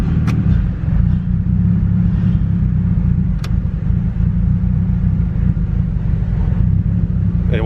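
Turbocharged Honda D16Z6 engine with a big HX35 turbo idling roughly and unevenly, a close, steady low rumble that sometimes stumbles as if about to stall; no one speaks.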